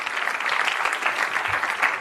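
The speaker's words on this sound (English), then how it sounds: "Give him a round of applause." An audience at a live card-magic show breaks into dense, steady applause that carries evenly through the brief moment.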